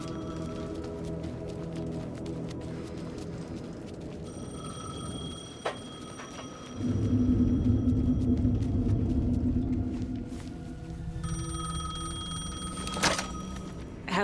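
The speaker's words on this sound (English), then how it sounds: "The payphone was ringing." A payphone rings in Alan Wake 2, with repeated bell tones standing out over a steady low rumble and a louder burst of noise partway through.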